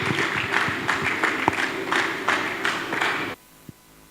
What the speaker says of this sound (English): if that applause was for me, that would have been great